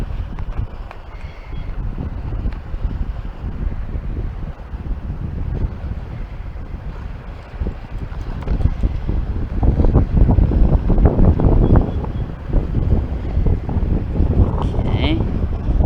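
Strong wind blasts the microphone at an outdoor magnet fishing spot, a loud continuous low rumble that swells louder midway, with no talk over it.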